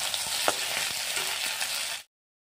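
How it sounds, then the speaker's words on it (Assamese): Fish pieces seasoned with turmeric fry in a pan, a dense continuous close sizzle with a few small pops, cutting off abruptly after about two seconds. "মাছখিনি ভজা হৈ গ'ল, তাক খুব ধুনীয়াকৈ ভাজি ল'লোঁ।"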